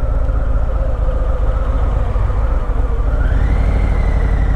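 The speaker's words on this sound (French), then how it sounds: "on laisse la moto aller sur le point de patinage" A Harley-Davidson Fatboy 114 motorcycle rolls at the clutch friction point with the throttle closed. Its engine keeps up a loud, steady low rumble, and the pitch rises slightly near the end.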